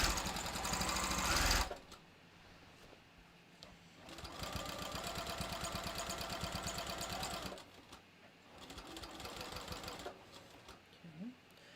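A sewing machine stitches rapidly in several runs, hemming fussy knit fabric for a bathrobe, loud at first, then steady mid-level bursts with short pauses between them.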